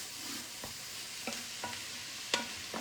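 Steady sizzling of bacon, onions, peppers and garlic frying in a pan, with occasional scrapes and clinks of a utensil stirring, close and fairly quiet.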